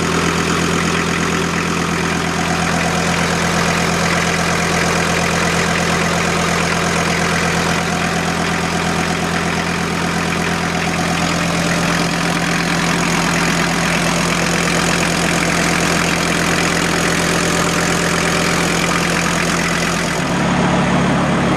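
A VW T4 van's AAB 5-cylinder diesel engine idling, a loud steady low drone with a constant hum and faint knocking texture, close up, holding even before a slight shift at the very end.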